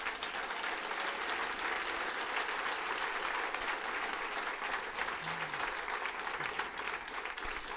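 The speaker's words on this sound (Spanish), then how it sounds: "démosle un fuerte aplauso al Señor" A church congregation applauds steadily and densely for several seconds, a sustained wash of many hands clapping at close range with no pause.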